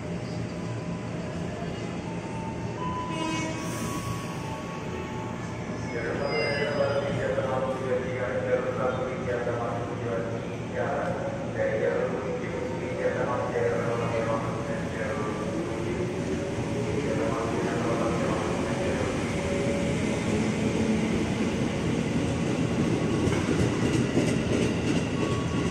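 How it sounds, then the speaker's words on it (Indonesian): KRL commuter train, a Jakarta electric multiple unit, rolling through Jatinegara station, a steady loud rumble with rhythmic wheel clatter building from about six seconds and holding to the end, with faint voices in the background. "Di belakangnya langsung ada lagi KRL"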